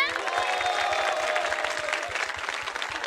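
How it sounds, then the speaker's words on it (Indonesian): Audience applause at a JKT48 theater show, a dense steady patter of many clapping hands with some crowd noise, under tonal background music throughout. "mana tepuk tangannya"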